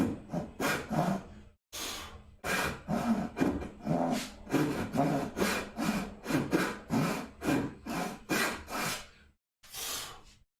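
A rip-cut hand saw cuts along a marked line in wood for a shadow box, its close, even back-and-forth rasping strokes repeating steadily, with a couple of short pauses and no talking.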